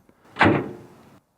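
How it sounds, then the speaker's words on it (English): A door closing indoors: one thudding slam after a faint click, ringing briefly before fading out, heard alone. "Oh, people closing doors."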